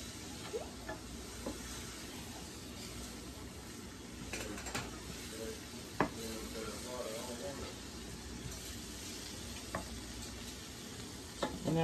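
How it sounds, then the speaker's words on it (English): Flour cooking into a roux in a pot for seafood pot pie, a soft continuous sizzle with occasional spoon stirs and scrapes against the pot, quiet and close, with a voice talking over it. "when you're cooking the flour, make sure you're cooking all the floury taste out of it"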